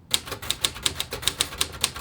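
Typing on a 1950s Royal Quiet Deluxe typewriter: about a dozen crisp, snappy keystrokes in a quick, fairly even rhythm, close and alone with no talk.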